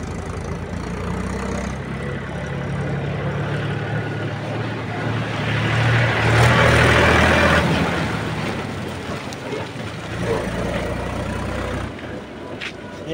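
A tractor hauling a load of bricks chugs steadily nearby with a rough, continuous engine drone that swells briefly in the middle. A little talk is mixed in.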